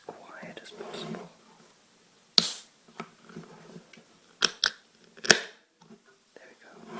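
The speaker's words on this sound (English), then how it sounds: "I'm going to be opening this can and it may pop" Someone whispers softly while handling a can of Lilt soft drink; several sharp, bright clicks and a crisp pop ring out close up between quieter rustles.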